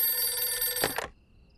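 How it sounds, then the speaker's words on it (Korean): A telephone bell rings steadily and loudly, then cuts off abruptly after two quick bursts, leaving near silence; no voices. "이 시간에 뭔 전화야?"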